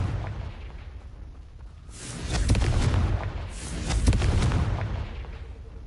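Fiery blast from the Confringo spell in the video game Hogwarts Legacy, two rolling booming bursts swelling up after a quieter rumbling start, loud and close.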